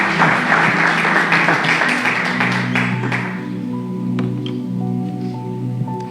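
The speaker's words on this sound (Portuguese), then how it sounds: "le damos un aplauso al Señor por su vida" A church congregation applauds, a loud, dense burst of clapping that fades after about three seconds into a sustained tonal hum.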